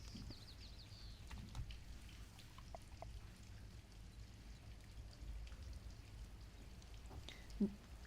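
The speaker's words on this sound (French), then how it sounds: "On écoute la pluie." Steady patter of rain falling in the video game Blockhood, fairly faint and continuous, with a soft wash of drops and a brief louder tap near the end.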